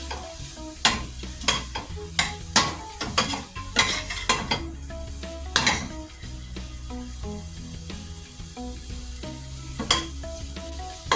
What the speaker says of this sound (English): Just let your vegetables and seasonings